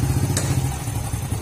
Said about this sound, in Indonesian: mesin dihidupkan